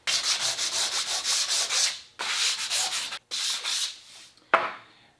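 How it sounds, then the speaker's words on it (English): Wood sanded by hand with quick back-and-forth strokes, close and crisp. Several rhythmic bursts are broken by short pauses, and the last is a single scrape. "I'm sanding this less to make it pretty and more to clean off some of the markings"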